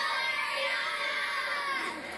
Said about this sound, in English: her fans are still cheering her on big time.